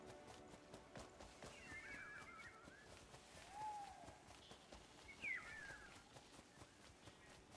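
Horses in the Crimson Desert video game give a couple of faint whinnies over a quiet bed of soft hoof clops and outdoor ambience, fairly distant and low in level.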